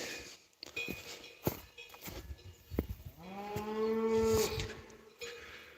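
Frightened cattle moo loudly nearby, a long drawn-out low call rising after scattered thumps and rustling outdoors.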